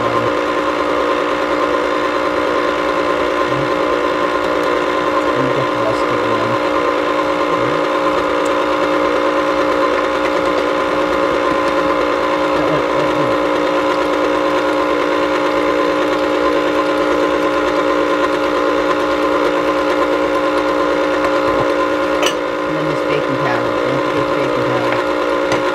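A kitchen appliance whirs steadily and loudly throughout while bliss bars are being made, a constant close mechanical hum with faint knocks and shifts in the low end.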